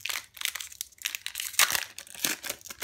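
Foil wrapper of a Yu-Gi-Oh Legendary Duelists booster pack being torn and crinkled open up close, a dense, continuous burst of loud crackling rustles with no voice.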